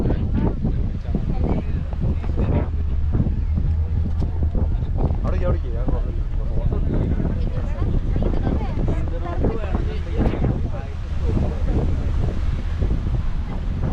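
A boat cruises across the sea off Musandam, Oman, with steady low engine rumble and heavy wind buffeting the microphone throughout, a continuous loud wash with faint voices now and then beneath it.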